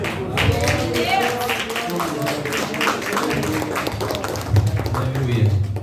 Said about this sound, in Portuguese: E uma salva de palmas ao Senhor Jesus.